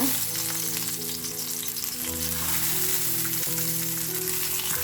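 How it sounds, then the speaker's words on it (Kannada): Halved tomatoes fry in oil in a pan over a low flame, giving a steady, close crackling sizzle that runs the whole way through with no voices. "ಫ್ಲೇಮನ್ನು ಲೋ ಅಲ್ಲಿ ಇಟ್ಕೊಂಡು ನಾವು ಕಟ್ ಅಂತ ಟೊಮ್ಯಾಟೋನ ಇದ್ರ ಒಳಗಡೆ ಇಟ್ಕೊಳ್ಳೋಣ ಈ ಥರ"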